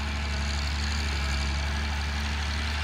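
An old, early Cummins diesel in a Galion machine runs at a steady idle, a loud, dense, continuous low rumble close by.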